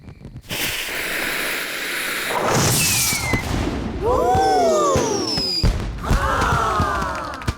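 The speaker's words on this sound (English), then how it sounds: "And now for the giant firework!" A giant cartoon firework in a children's fairy-kingdom show launches with a whooshing rush, then bursts into loud crackling explosions with whistling, sparkling tails that repeat.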